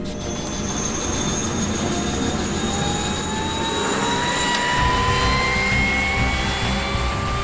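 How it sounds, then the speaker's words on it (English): An Indian Army Aviation Corps helicopter drones steadily with a loud, continuous turbine whine and rising tones, heard alone without voices. "sound of an army helicopter can mean various things to various people"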